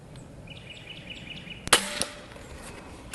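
A single sharp, close report from a JTS Airacuda Max .22 air rifle, followed by a brief pellet impact and faint ringing against a quiet outdoor backdrop with distant birdsong.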